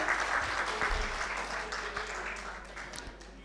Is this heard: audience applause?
yes